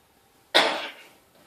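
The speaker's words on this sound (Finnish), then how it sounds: "Itse mä yskittää tänään." A single sharp cough bursts out close to the mic, then trails off quickly into near silence.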